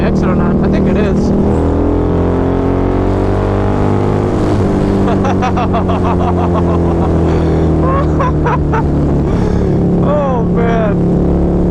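A Harley-Davidson V-Rod motorcycle rides at speed on a highway, its engine a loud steady drone with shifting revs, wind noise throughout, and someone talking briefly over it.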